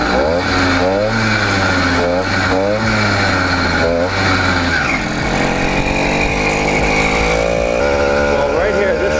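An 80cc two-stroke engine on a motorized bicycle, its exhaust pipe cut off at the baffle, revs up and down repeatedly with a buzzy, popping tone, close and loud, under someone talking.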